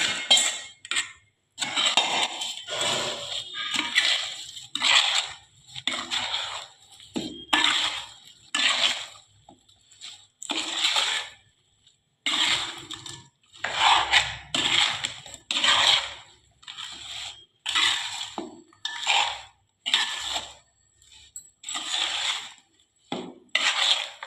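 Amla pickle being mixed with an oil tempering in a bowl, a run of repeated wet stirring and scraping strokes with utensil clinks against the bowl, close and fairly loud in rhythmic bursts.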